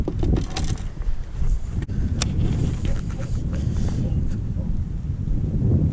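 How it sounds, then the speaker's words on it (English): Strong gusts at a coyote pond buffet the microphone, producing continuous low rumbling wind noise with uneven bursts and a few faint clicks. "it is windy as hell out here."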